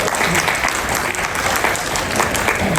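Steady, full applause from an audience at a Lunar New Year event in Queens, a thick even texture of many hands clapping close by, with faint voices mixed in.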